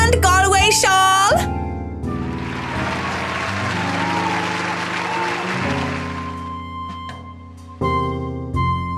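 An audience applauds a bride-to-be after an Irish song, with clapping swelling in the middle and fading as a voice talks over it and music chords frame the start and end.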